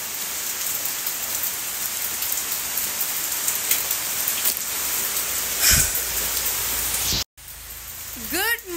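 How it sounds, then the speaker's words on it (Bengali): Steady rain falls on a surface in Kolkata, a dense, even hiss of drops with a brief louder splash near the middle and a short dropout toward the end. "কি বৃষ্টি পড়ছে।"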